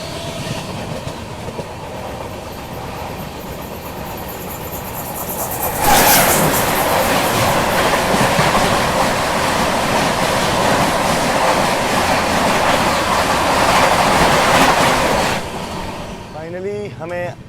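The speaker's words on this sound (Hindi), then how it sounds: "ये देखिए सामने से आ रही है रांची राजधानी एक्सप्रेस।" The Ranchi Rajdhani Express rushes past close by, a loud sustained roar of wheels and wagons swelling suddenly and holding for about ten seconds before dropping away, following a quieter stretch of rail noise.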